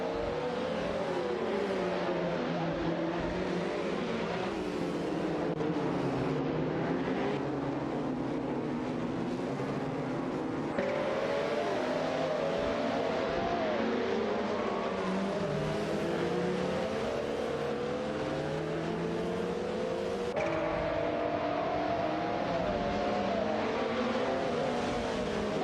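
Race cars in a racing video game roar past one after another. Their engine pitch rises and falls in sweeping waves over a loud, steady motor drone.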